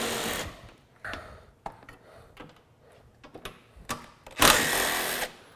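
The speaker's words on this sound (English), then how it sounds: "we can take these bottom bolts out" Power tool removing the bottom headlight bolts on a 2014 GMC Sierra, with short whirring bursts, a longer loud run near the end, and scattered clicks and knocks between them.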